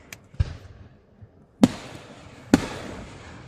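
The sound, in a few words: fireworks exploding at night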